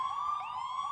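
A police-style siren sound effect fired off a soundboard, a loud steady wailing tone with a brief pitch sweep in the middle, heard alone for about a second.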